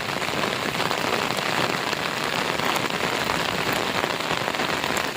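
Heavy rain falls without a break in a thunderstorm near Mini Girnar, a loud, even wash of close drops drumming on surfaces, with faint sharper spatters now and then and no voices.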